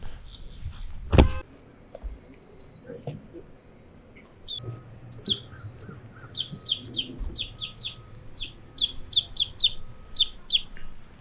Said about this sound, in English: Love these birds, man.